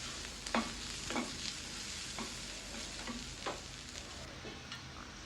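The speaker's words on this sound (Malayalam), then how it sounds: "എന്നിട്ട് വീണ്ടും സോട്ട് ചെയ്യുക." Onion and green chillies sauté in a pan for a Kerala-style cauliflower stir fry, a soft steady sizzle punctuated by regular scraping strokes of a spatula.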